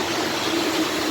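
A metro train running with a steady, dense rumble and hiss, a faint hum beneath it and no distinct clatter, heard from close by.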